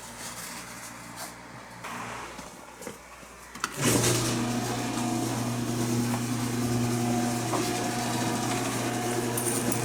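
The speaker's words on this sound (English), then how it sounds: "We're going to start the engine" A 2011 Chevrolet Camaro V6 engine cranks and catches partway through, then settles into a steady, loud idle that continues to the end after a quieter stretch before the start.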